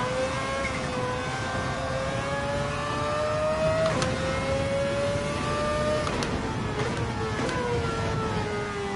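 Honda NSX engine in a PSVR2 racing game at a Kyoto driving park, a sustained droning whine that rises steadily with each gear before dropping sharply at the shifts, loud and alone with no talk.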